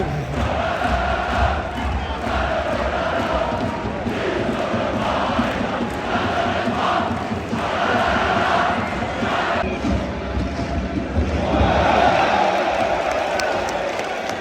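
A football crowd in a small stand at a Lorient versus Brest match cheers and applauds in a continuous roar, swelling in waves and peaking loudly near the end, with voices nearby mixed in.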